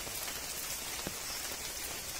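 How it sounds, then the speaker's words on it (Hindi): Steady rain falls on a paddy field during rice planting, a dense, even patter with no talk, continuous from start to finish. "देख सकते हैं बारिश भी आ रहा है"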